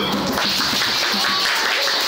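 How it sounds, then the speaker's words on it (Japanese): Dense, steady crowd clapping from a classroom or lecture audience, a continuous wash of hand claps filling the clip without pauses. "はい、拍手。"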